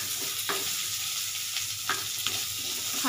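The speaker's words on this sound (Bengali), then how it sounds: "হালকা করে জাস্ট ভেজে নিলাম, খুব লালচে লালচে হবে।" Potatoes and okra fry in a pan with a steady, close hiss of sizzling oil, broken by a few soft scrapes of stirring.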